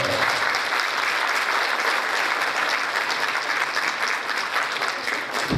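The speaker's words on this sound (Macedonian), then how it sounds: "Ке може ли со еден громогласен аплауз да го поздравиме организаторот?" An audience at a folk cultural society concert in a community hall applauds continuously and loudly, a dense, sustained wash of many hands clapping with no pauses, close and full.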